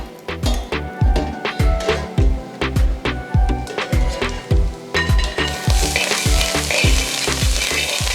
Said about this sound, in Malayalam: നമുക്കൊന്ന് മൂടി മാറ്റി ഇളക്കി നോക്കാം.